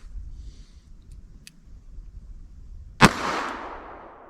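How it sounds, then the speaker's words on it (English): A .44 caliber revolver fires a single sharp, loud shot close by, followed by a brief rumbling decay, with only faint background noise before it. "So let's see how the actual 44 caliber gun does."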